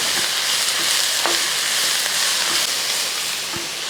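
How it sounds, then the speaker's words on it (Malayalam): Two long green chillies being stirred through hot oil in a pan, a steady broadband sizzle with a few light scrapes of the spoon, close and continuous with no talking. "ഒരു രണ്ട് പച്ചമുളക് നീളമുള്ളു ആ പച്ചമുളകും കൂടെ അങ്ങോട്ട് ഇളകിക്കും"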